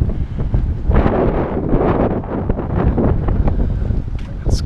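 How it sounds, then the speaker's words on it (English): Strong wind buffets the microphone with a constant heavy rumbling roar, gusting louder and softer throughout, on a small-town street in Morganton, North Carolina. "And I mean, it is super windy."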